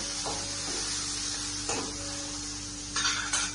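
A chopped tomato drops into hot, sizzling oil tempered with curry leaves for farali khichdi. A steady hiss of frying runs throughout, with brief stirring scrapes and a louder burst of sizzle near the end.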